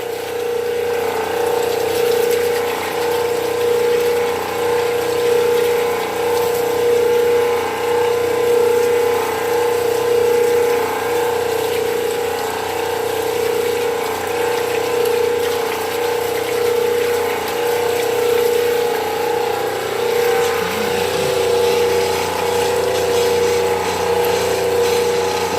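A liquid pump runs steadily, rinsing water through a tractor transmission; a continuous, even mechanical hum with water rushing, loud and unchanging throughout, with no talking.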